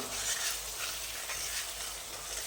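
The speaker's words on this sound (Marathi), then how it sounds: "भाजत भाजत आणि व्यवस्थित ढवळून घ्या" Semolina roasting in a pan for sheera, giving a soft, continuous sizzle and gentle scraping as it is stirred, low and steady throughout.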